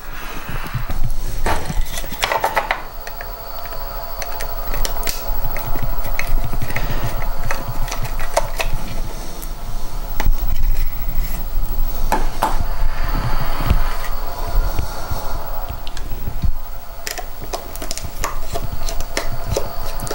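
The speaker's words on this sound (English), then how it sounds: "I'm going to pull the wheels and the couplers off, and we'll just set these off to the side." Small wheel sets and couplers being unscrewed and pulled off an HO-style model box car produce a steady run of light clicks, taps and plastic scrapes, close up, with no talking.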